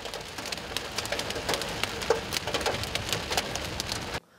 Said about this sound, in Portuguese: um temporal com granizo trouxe alguns problemas para a região